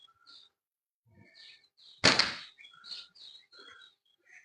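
A steel ball shot from a slingshot with 0.6 mm tapered latex bands, about 17.5 cm active length: one sharp, loud snap and thwack near the middle, with quiet chirps and faint background sounds before and after.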